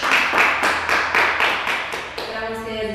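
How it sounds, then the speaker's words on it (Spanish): Several hands clap in a steady run of about eight sharp, even claps after a home fitness routine, close and fairly loud, before the clapping stops and a faint tonal sound rings out at the end. "Y un aplauso para ti"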